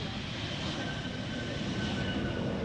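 An airliner landing at Schiphol without thrust reversers, heard as a steady, moderately distant broadband engine roar with a faint whine that holds even throughout.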